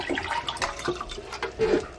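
Water poured from a measuring cup into a pot on a kitchen range, a close, splashy gurgling stream with uneven surges, heard without talk.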